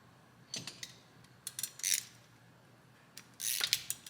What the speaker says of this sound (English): we're going to grab our clamp, take the nut off of it